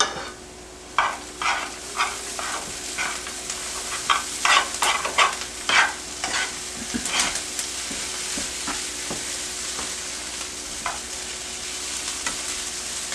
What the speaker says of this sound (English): You smell bacon, Grace?